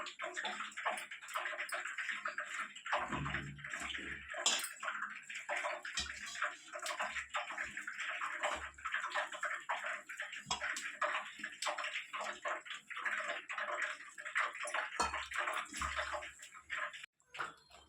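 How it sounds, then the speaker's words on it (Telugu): Water poured into gram flour batter seasoned with carom seeds and a pinch of baking soda, then mixed by hand for raw banana bajji. Close, continuous wet sloshing and squelching with small drips, steady throughout and no talking. "వాటర్ పోసుకుంటూ కలుపుకుందాము"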